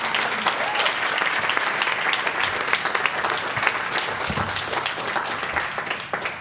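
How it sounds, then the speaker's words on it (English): An audience at a school board of education meeting applauds students with a long, full round of clapping. Many hands ring out steadily and fairly loud, with faint crowd murmur mixed in. "the applause should be given to the students"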